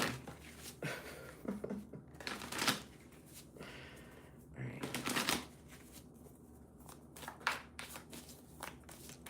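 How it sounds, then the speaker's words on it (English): Tarot cards are shuffled by hand in repeated riffling bursts with brief gaps between them, close-up and crisp, with papery flutters and soft taps. "I'm going to shuffle again."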